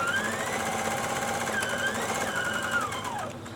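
A sewing machine stitches along the fabric of a rice pack, its steady rapid whirring continuous and close, slowing and easing off near the end with no voices.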